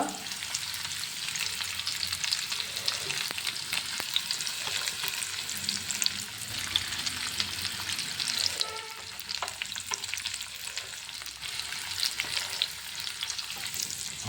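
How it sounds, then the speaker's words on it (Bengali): Chopped onion, green chili and garlic fry in hot oil in a kadai, giving a steady, close sizzle with intermittent scraping and stirring throughout, with no talking. "পেঁয়াজ, কাঁচা লঙ্কা, রসুন একটু ভাজা ভাজা করে নেব।"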